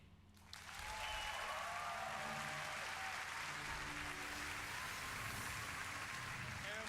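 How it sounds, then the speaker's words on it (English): Sustained applause from a large audience at the E3 2019 Ubisoft conference swells after a brief quiet moment and holds as a dense, steady wash of clapping. "Please give a warm applause to Marc-Alexis Côté"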